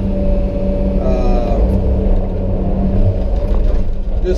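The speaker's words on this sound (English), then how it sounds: "I've run several of these 20 ton size excavators" A heavy 20-ton excavator engine runs at a steady, loud rumble close by, with a low droning hum and occasional mechanical creaks.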